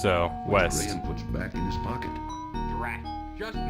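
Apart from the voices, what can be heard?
None of the usual background noises is heard.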